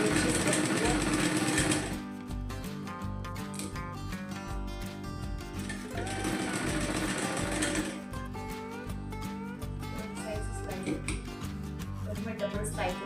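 A domestic sewing machine running a double line of stitches through cloth, its fast mechanical whirr starting and stopping in bursts. Someone talks over the machine throughout.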